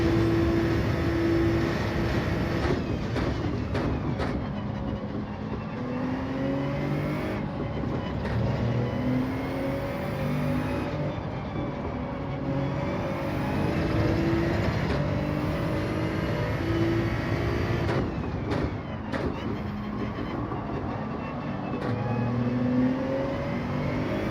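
Continuous roar of Gr.3 racing car engines at Spa in Gran Turismo 7, revving and shifting pitch through gear changes, loud and unbroken throughout.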